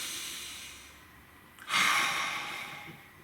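A single deep breath is drawn in quiet, soft and close, rising out of faint background hiss before slowly trailing away.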